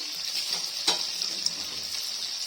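Chicken barra with onion cooks in a pan, giving a steady close hiss of frying with a couple of soft stirring knocks, no voices.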